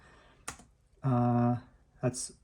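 Typing on the keyboard of a Lenovo Legion 7 Gen 7 laptop, heard as a few sharp, isolated key clicks with a short voiced sound between them, close and fairly quiet.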